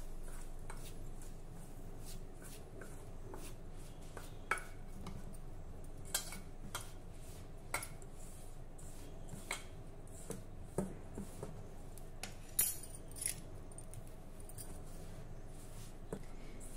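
Modak dough being mixed with ghee in a bowl, with soft, continuous stirring and rubbing broken by occasional light clinks and taps of utensil against the bowl, quiet and close.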